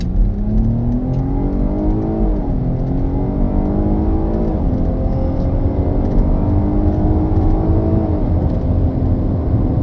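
A 2023 Cadillac XT5 in sport mode with all-wheel drive accelerates hard from a standstill, its engine note rising steadily and dropping briefly at each gear change, loud and close with no talk.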